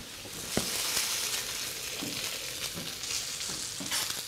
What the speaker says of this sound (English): Smoking hot pan, in goes the fish.